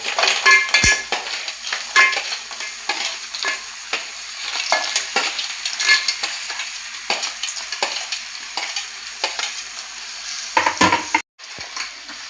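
Freshwater crabs are stirred in a cooking pot with salt and spices, giving repeated scraping, clattering strokes against the metal over a faint sizzle; no one speaks.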